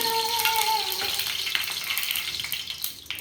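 About two spoons of oil sizzle in a pan on a home kitchen stove, a soft, steady crackling hiss close by, with a brief tonal sound at the start and faint voices in the background.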